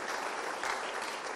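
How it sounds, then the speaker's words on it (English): Steady applause from an audience at the close of an online 3D creature concept design session, a dense wash of clapping with no voices on top. "So one more big round of applause for Ian."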